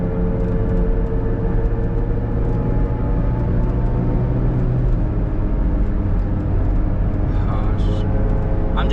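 A Chevrolet Cobalt SS engine runs rough at idle, giving a close, loud, steady low rumble that drones without pause from start to finish.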